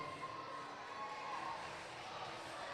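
Steady, broad crowd noise fills a powerlifting meet at a state championship as spectators cheer on a lifter retaking her attempt, a continuous murmur and shouting with no clear peaks.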